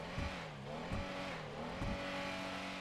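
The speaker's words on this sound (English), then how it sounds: "as you can hear, the sound the car makes is pretty weak as well" A Michelli GT sports car from GTA 5 Online idles and revs in-game, a steady engine drone with three short throttle blips spaced about a second apart, no talk.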